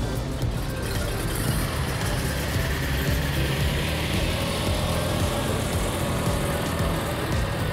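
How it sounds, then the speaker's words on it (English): Classic cars roll onto the lawn at the Pebble Beach Concours d'Elegance before dawn, a steady low engine rumble and idling drone filling the air continuously, fairly close, with no clear talk. "The cars roll onto the green here at Pebble Beach, out of the darkness, out of the mist, before dawn."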